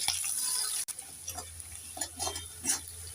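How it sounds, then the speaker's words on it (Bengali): Chopped onions with black cumin seeds fry in hot oil, a steady hiss punctuated by a sharp clack and soft scraping taps as they are stirred, close and fairly quiet with no voices. "কেটে রাখা পেঁয়াজ একটু নেড়ে চেড়ে পেঁয়াজটাকে আমি লাল করে ভেজে নেব"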